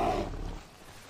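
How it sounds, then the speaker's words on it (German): A bear in the Bigfoot video game lets out a deep, loud, close roar that starts strong and then trails off into a lower rumble. "Also den wir jetzt hören, das ist der Bär."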